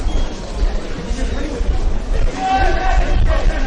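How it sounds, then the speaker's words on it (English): A football crowd murmurs at Kilburn during the State League 1 match between West Adelaide and Adelaide Olympic, a steady hubbub of spectators under close-up commentary. "Decent sized crowd here, folks, at Kilburn for this HPG Homes State League 1 tie between West Adelaide and Adelaide Olympic."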